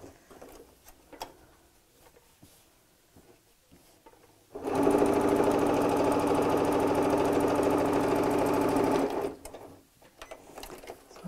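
A sewing machine stitches gingham fabric pieces for a tea cosy in one steady, close, fast whirring burst of about five seconds, preceded and followed by quieter handling of the cloth.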